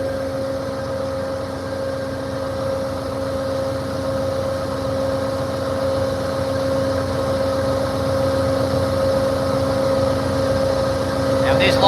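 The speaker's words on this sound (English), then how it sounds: "it is not very often that you get to be this close to these big locomotives. And it is great to stand this close and listen to these things idle." Big BNSF diesel freight locomotives idle at a station stop in Ottumwa, Iowa, giving a steady low throb with a constant whining hum, heard from close by with no break in the sound.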